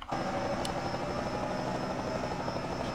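A helicopter hovers overhead above the scene of a crash, its rotor and engine producing a loud, steady droning thrum that runs unbroken from start to finish.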